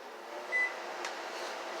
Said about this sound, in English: But then I'll take and put it in the microwave.